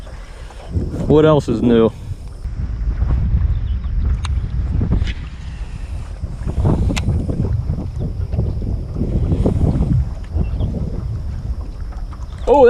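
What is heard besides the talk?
strong wind on a fishing boat in a marsh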